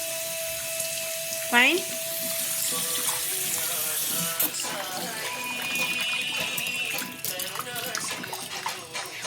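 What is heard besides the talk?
tap water running while washing eggs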